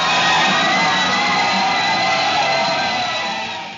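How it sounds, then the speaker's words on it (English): A large crowd cheers and whoops at a Ron Paul fundraiser as the donation total passes 12 million, a steady roar of voices filling the space and fading slightly toward the end. "you could see the crowds going crazy as soon as we passed 12"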